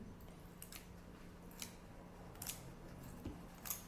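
Several short crisp snips of scissors cutting paper in quiet, spaced irregularly, with a faint low hum underneath.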